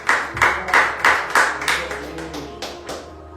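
Rhythmic clapping from a church congregation at a Pentecostal service, about ten sharp claps in steady time, fairly loud and close, with faint voices beneath and the claps thinning out toward the end.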